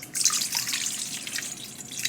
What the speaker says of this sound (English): we want about 180 grams of warm water